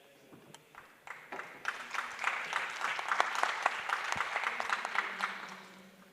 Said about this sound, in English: I think they deserve another round of applause, please.